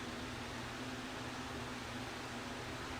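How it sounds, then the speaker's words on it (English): An electric fan blows to dry fresh paint on baseball yard art decorations. It makes a soft, constant whooshing hum, faint and unbroken, with no one speaking. "y'all hear the fan in the background? That's what I call a blow dryer."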